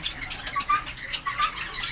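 A yellow budgerigar flapping its wings, heard as several quick, soft fluttering bursts close by, with faint chirps mixed in.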